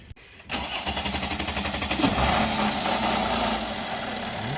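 A 2013 Mercedes-Benz E350 with a hard-start fault and new camshaft sensors cranks in a brief burst of rapid chugs, then fires and settles into a steady, close idle.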